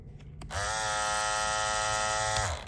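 An electric hair clipper switches on and hums steadily at close range for about two seconds with a bright, buzzing whine, then cuts off.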